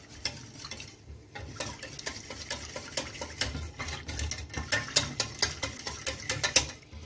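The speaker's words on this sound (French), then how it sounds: "On mélange bien." Milk being stirred into a sauce in a pan, with quick repeated scraping and tapping strokes of a utensil against the pan that grow louder and faster toward the end, close and with no talk.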